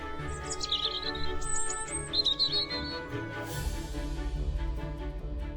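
Small birds in the winter Alps give high chirps and calls, short repeated notes rising above a low tonal background.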